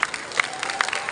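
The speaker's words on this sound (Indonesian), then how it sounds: "Ini tepuk tangan untuk Pak Roy." Brief applause at an Indonesian environment ministry gathering, a quick burst of clapping from a seated audience lasting about a second, steady and moderately loud with no talk over it.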